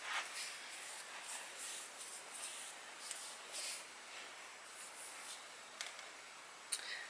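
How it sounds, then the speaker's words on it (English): A few quick hissing sprays of perfume from a bottle, close and soft, spread across a quiet getting-ready moment with faint ticks and a sharper click near the end. "And then a couple sprays of the perfume."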